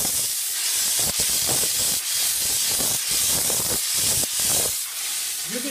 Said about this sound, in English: if you have your steam valve open all the way, and you're blowing steam like this